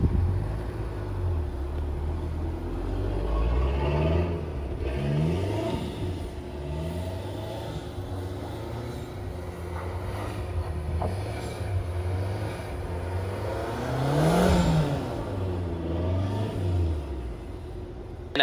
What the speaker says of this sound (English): it ended up snowing, so we took the Blue Speed out for some donuts